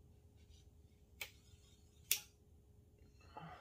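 A Tru Fire Sear X archery release gives two sharp, faint clicks about a second apart against a quiet background, followed by a soft thump.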